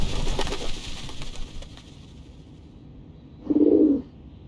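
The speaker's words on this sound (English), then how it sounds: "The doves of the Whitestone House are here." Doves of the Whitestone House in the video game Reverse 1999 give one short, mid-pitched coo near the end, rising clearly above a quiet, murmuring game background.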